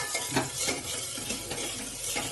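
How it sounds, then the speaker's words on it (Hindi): Rice lightly dry-roasted in a pan for kheer, with close, steady scraping and stirring against the metal and soft clinks of the utensil, no voices. "तो ये चावलों को हल्का सा भूनना है"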